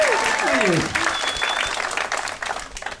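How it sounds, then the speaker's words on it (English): Audience applause at a live comedy podcast taping, a burst of clapping from a crowd that swells and then thins out over a few seconds, with a voice speaking over the start. "you say birthday, people applaud"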